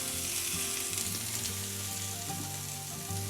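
Pork fries in rendered rib fat in a pan, giving a loud, steady sizzle and crackle throughout with nothing else over it.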